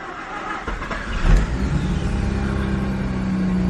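Mazda RX-8 rotary engine firing up, then settling into a steady, fairly loud idle close by with a low, even drone and no talk.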